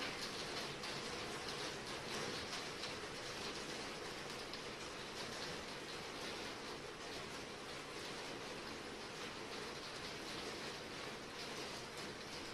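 Steady rain falls through the night on a deserted highway, a dense, even hiss of downpour that continues unbroken for the whole stretch, with no voices.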